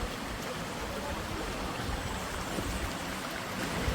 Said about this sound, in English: we're coming up to what is the key feature of this gardens, which is the waterfall